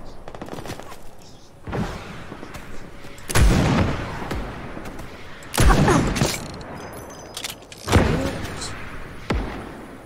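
Sniper rifle shots ring out in the video game Fortnite, five sharp, loud cracks spaced a couple of seconds apart, each with a short echoing tail over quieter game ambience.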